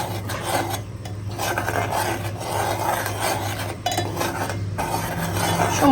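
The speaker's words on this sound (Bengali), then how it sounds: "অল্প করে জাল দিলাম এখন এভাবে নাড়তে থাকবো" Homemade Nutrela baby food mixture stirred in a pan over low heat, a steady close scraping and rasping of a utensil against the pan bottom that continues with short pauses and no talking.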